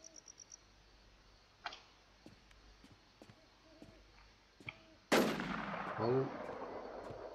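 A single loud gunshot cracks out midway through a PvP firefight in the survival video game Warz and then rings away. Faint ticks and distant shots come before it.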